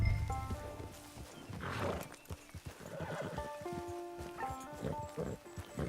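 A horse neighs loudly and hooves clop nearby in Red Dead Online, the whinnies rising and falling over a soft musical backdrop.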